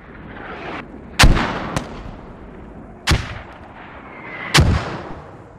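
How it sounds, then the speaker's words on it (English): Explosions and gunfire in the military shooter game Squad, with a grenade blast among them: three or four sharp, loud booms spread over a few seconds with fading tails between them. "I'm just gonna grenade."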